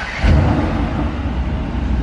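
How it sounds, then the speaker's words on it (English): A Mercedes-AMG GT R V8 gives a deep, loud, steady grumble at close range, a low rumble that swells briefly at the start and then holds evenly with no talk over it. "Oh, it's got that V8 grumble."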